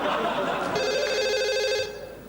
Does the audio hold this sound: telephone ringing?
yes